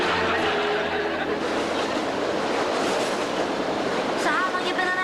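Ride aboard a subway train, a loud steady rumble of cars on the tracks with rattling and rhythmic clatter, and a brief squeal of wheels near the end.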